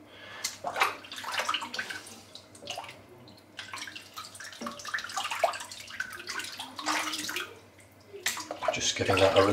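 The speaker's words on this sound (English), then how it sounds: "Giving that a rinse off" Running water splashes and gurgles steadily, as in a tub or sink, while a soap bar is rinsed off, with brief murmurs of talk partway through and the flow swelling near the end.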